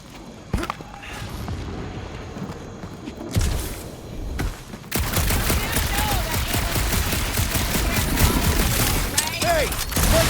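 Rocket fires weapons in the Guardians of the Galaxy video game: a few isolated shots give way to a dense, rapid fusillade of gunfire that continues loudly to the end.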